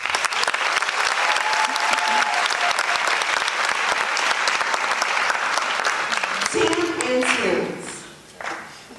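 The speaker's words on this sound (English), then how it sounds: "Please give them a round of applause." Loud, sustained audience applause for a student government executive board fills most of the clip, with cheering voices near the end as the clapping tapers off.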